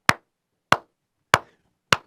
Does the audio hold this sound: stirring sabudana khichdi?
no